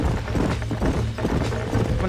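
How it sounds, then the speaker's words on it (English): Horse hooves galloping in Red Dead Redemption on PC, a rapid rhythmic clip-clop carrying through the whole moment, close and fairly loud amid game ambience. "We're going to break in some more horses."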